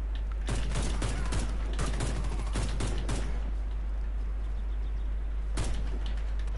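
Rapid bursts of gunfire in the shooter game Warface crackle over a steady hum, with dense volleys early, a lull, then another sharp shot near the end.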